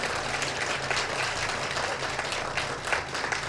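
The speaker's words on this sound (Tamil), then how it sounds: "ஐயா நீங்கள் கொடுக்குற கைத்தட்டு இன்னும் 10 நாள் பத்தாது." Dense, steady applause from a large audience at a Tamil stage debate, a continuous wash of many hands clapping with no break and no voices standing out.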